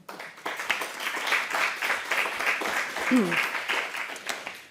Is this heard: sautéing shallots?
no